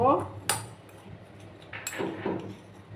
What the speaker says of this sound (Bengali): দিয়ে আবার ভালো করে আমি মিক্স করে নেব